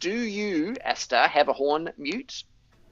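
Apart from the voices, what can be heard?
No everyday noises stand out.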